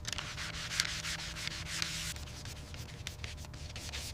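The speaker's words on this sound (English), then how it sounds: "220 grit sanding" Steady 220 grit sandpaper rubbing back and forth over a hand-carved wooden spoon, a continuous close scratchy hiss with faint rhythmic strokes and no voices.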